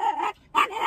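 A dog barks at another dog walking past, two quick, loud, close yapping barks split by a short pause.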